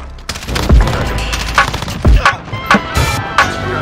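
Rapid bursts of gunfire in a first-person shooter video game crack out in several sharp, loud volleys, mixed with game effects and a voice talking over the action.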